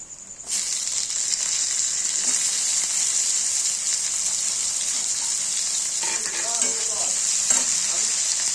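Chopped tomato, ginger and garlic hitting hot tempering oil for chana masala, bursting into a loud close sizzle that holds steady, with scraping stir strokes near the end and no voices.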